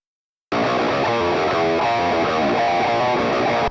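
A distorted electric guitar recorded through two microphones together, with no EQ applied, cuts in after a brief silence. It plays a dense, loud, sustained passage for a few seconds and then stops abruptly, with no voices.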